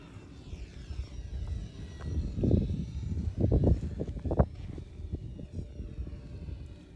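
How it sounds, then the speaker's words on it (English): E-Flite UMX P-51D Mustang, a small electric RC model plane, flying outdoors in wind: its motor whine rises and fades in a few faint-to-moderate passes at middle distance, with light wind noise and no talk. "This is a powerful little plane."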